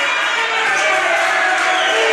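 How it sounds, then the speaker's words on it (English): A crowd at a Warriors basketball gathering cheers and shouts in a steady, bright roar, children's voices mixed in, sustained across the whole moment. "They're cheering you on."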